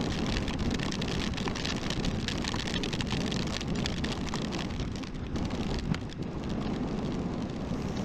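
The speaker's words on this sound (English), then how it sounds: "yes, we've got hail, folks." Hail falling steadily during a motorbike ride in bad weather, a dense continuous hiss and patter mixed with wind and riding noise, loud and unbroken throughout with no talk.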